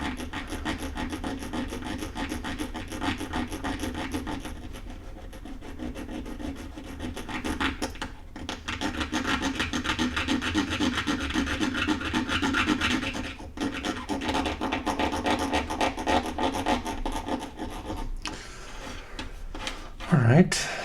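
A fountain pen nib is ground against an abrasive surface to reshape its rounded tip, giving a steady, close rasping scrape that runs nearly continuously with a few short pauses.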